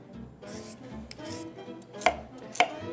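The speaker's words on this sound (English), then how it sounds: "So we just wanna chop it up in pieces that are easier for the machine to handle." A kitchen knife chops a peeled cucumber into chunks on a cutting board: a run of soft, close taps, then two sharper, louder chops near the end, with no talking.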